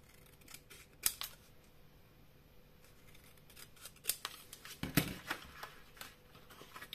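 Scissors cut paper for a handmade mini album, giving a series of sharp close snips and rustles that cluster near the middle, with soft handling noises between them and no talk.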